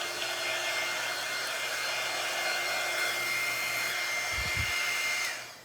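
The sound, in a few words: blowing dust off a primitive Halloween centerpiece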